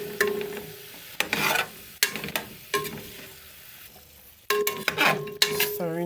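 Chopped tomato is stirred in a pot while cooking Jamaican-style chicken and rice, with repeated scraping spoon strokes and clanks against the pot over a low sizzle, close and alone.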